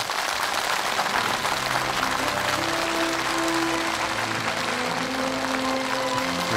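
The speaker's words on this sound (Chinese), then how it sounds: "掌声有请" Studio audience applause welcoming a guest onto a Chinese television talk show, a dense continuous wash of clapping at an even level throughout, with faint music tones underneath.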